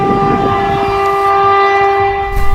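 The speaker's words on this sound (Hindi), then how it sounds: "तेज रफ्तार ट्रेन पटरियों पर धड़धड़ाती हुई दौड़ रही है" A crowded passenger train rolls loudly along a railway track near an outer signal, with a steady sustained horn-like tone over the rumble of the wagons and no talking.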